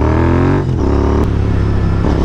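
Royal Enfield GT 650 twin engine revving hard for a wheelie, a loud close exhaust note that climbs, dips with a gear change, then climbs again, harmonic and continuous.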